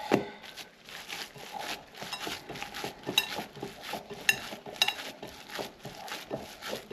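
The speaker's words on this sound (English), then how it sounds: "I spin the bowl as I mix it" Stuffed pepper filling mixed by hand in a bowl that keeps being turned, giving soft squelching and scraping with occasional sharp clinks of a utensil against the bowl, close and moderately quiet.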